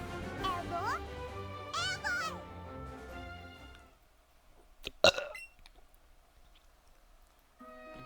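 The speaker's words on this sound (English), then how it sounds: "Burping so much. Got a lot of gas." A man gives a couple of deep, drawn-out belches early on, then a sharp gulping noise follows in a quiet room, with talk around them.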